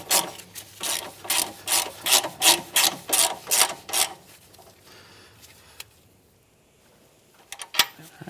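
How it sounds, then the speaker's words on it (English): An 18mm socket on a ratchet tightens a front sway bar bolt on a 2007-2013 Acura MDX, giving about ten quick rhythmic rasping ratchet clicks up close, then near silence and a few final clicks. "Tighten that back down with our 18mm socket."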